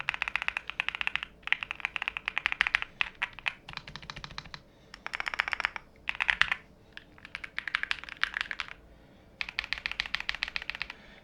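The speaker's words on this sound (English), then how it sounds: "get close to the keyboard so you guys can hear the switches and the keycaps" Rapid clicky keystrokes on a NuPhy Halo65 V2 mechanical keyboard, typed in bursts with short pauses, close up and fairly quiet, no talking.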